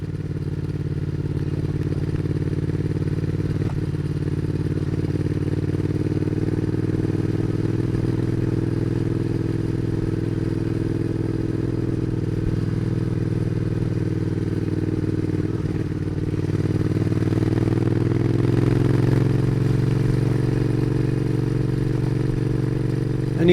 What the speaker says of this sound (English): listen to the sound of that lovely Interceptor engine as it climbs the hill